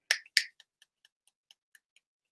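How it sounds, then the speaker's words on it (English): Fingers snap at a drag queen story time at the San Diego LGBTQ+ community center: two loud, crisp snaps up close, then a quicker run of fainter, evenly spaced snaps trailing off. "So everybody Oh. snap your fingers with me on three"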